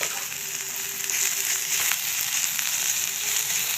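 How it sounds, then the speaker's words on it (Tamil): Beetroot with ginger and garlic sautés in a pan, giving a steady, close, bright sizzle that holds evenly throughout, with a few faint stirring scrapes. "பீட்ரூட் நல்லா வதங்கணும்."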